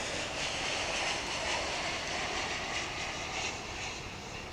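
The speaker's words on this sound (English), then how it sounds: "as we acknowledge the arrival of this 777." Boeing 777 airliner arriving at DFW International Airport, a broad steady jet roar heard from a distance, continuous and moderately faint with no talk.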